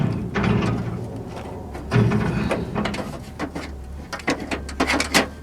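A Ford Escape window regulator is bent and slid into the car door, giving scraping, rattling metal scrapes and clunks in uneven bursts, close by with no talking.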